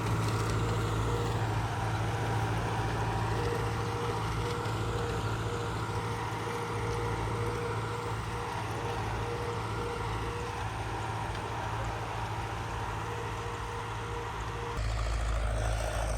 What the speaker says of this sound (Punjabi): ਪੂਰਾ ਖੜਕਾ ਕਰਦਾ ਜਾਂਦਾ ਪਲੋ